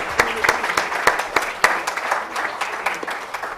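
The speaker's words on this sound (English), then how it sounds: "Huge round of applause for all of you." A crowd applauding at an international conference plenary session, with scattered distinct claps standing out, steady and fairly loud throughout.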